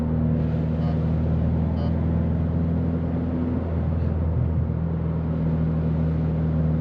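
Steady, loud engine drone and exhaust rumble from inside a Subaru BRZ/GT86 with a custom exhaust while driving, constant throughout with no distinct pops.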